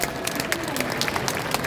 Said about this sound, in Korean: 여러분 수고해주신 우리 공연단분들께 큰 박수 부탁드리겠습니다.